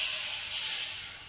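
Water hits a hot wok with a broad, soft hiss and sizzle that swells briefly and then fades, heard alone at close range.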